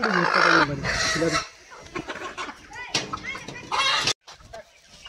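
Three-and-a-half-month-old young rooster and hen, free-range birds raised on a rubbish heap, cluck and call in bursts close by, mixed with people talking over and between the calls.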